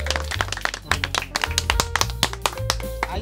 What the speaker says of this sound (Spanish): los aplausos por ahí al público